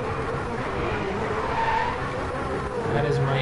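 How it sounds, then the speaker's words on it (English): A car drifting in DriveClub, tires skidding in a steady, loud screech over engine roar and racing sounds. "this car just drifts like crazy"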